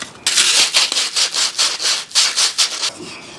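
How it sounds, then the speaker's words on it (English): Sandpaper rubbed by hand over the edges of holes cut in scrap wood, about a dozen quick rhythmic back-and-forth scrubbing strokes, close and loud with no speech. "You just need to get yourself a bit of sandpaper, clean those up before we move on to the next step."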